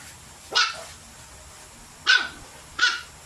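A dog barks three times, sharp and fairly close, with pauses between each bark against a quiet background.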